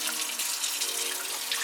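Cold water runs from a kitchen tap while making pozole, a steady soft hiss of flowing water splashing into a sink, quiet and continuous with no talk.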